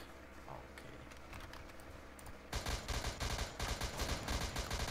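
Rapid automatic gunfire from a machine gun in the Roblox-style game ER:LC bursts in halfway through, loud, dense and continuous after a quieter stretch of background game noise.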